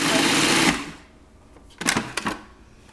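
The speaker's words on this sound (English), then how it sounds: "I'm just going to grind this up." An electric grinder whirring loudly for under a second as it grinds croissant filling ingredients into a paste, cutting off abruptly, followed by a few clunks and rattles of the container.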